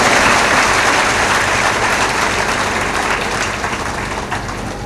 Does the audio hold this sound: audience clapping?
yes